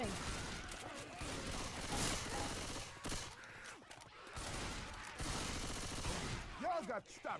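Rapid bursts of gunfire from the Left 4 Dead 2 video game during a tournament match, dense and continuous across the clip with loud automatic volleys and sharp reports, heard under players' voices talking.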